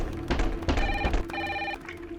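A telephone rings in short repeated electronic trills, two bursts close together, loud and clear over a low background hum.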